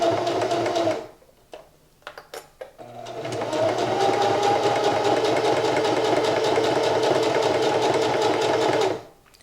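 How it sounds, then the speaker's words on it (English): A sewing machine stitching fabric, a brief burst of whirring, a pause with a few light clicks, then a long steady close mechanical hum with rapid needle rhythm that stops abruptly. "Then I'm going to put the presser foot down, and then I'm gonna continue to sew."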